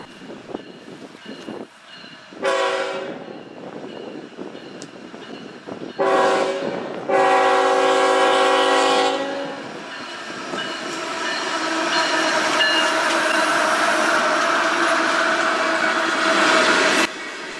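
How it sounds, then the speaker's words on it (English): A freight train hauling ethanol cars, led by two Canadian National GE ET44AC locomotives, sounds its horn in several loud blasts at a grade crossing near Piketon, Ohio, before the rumbling roll of the passing cars builds and continues close by. "ethanol train with 2 Canadian National locomotives at the head"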